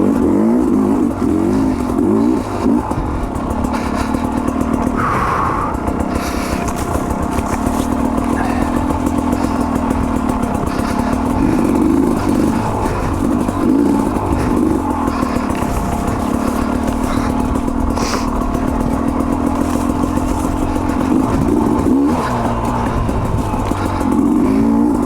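Sherco 250 SE two-stroke trail motorcycle ridden steadily, a continuous loud engine drone with small throttle rises and falls and some clattering over terrain, no voices.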